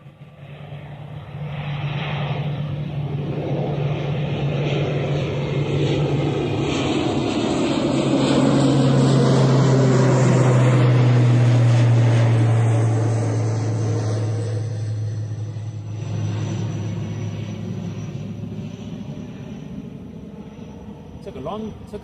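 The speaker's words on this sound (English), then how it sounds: "Aer Lingus ATR 72-600 on the way out." An Aer Lingus ATR 72-600 turboprop departs Bristol Airport, its engine drone and propeller tone rising, peaking and sweeping past before fading into the distance.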